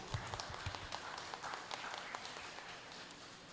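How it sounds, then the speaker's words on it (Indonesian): An audience applauds graduating students at a junior high school graduation ceremony in Jepara, with steady, fairly faint clapping from many hands that sounds somewhat distant and continues throughout. "Tepuk tangan buat para wisudawan wisudawati"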